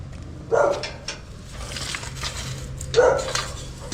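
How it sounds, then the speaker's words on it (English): A neighbor's dog barks twice at a distance in a residential yard in Centro Mérida, two short separated yelps over a steady low background hum. "my neighbor's dog"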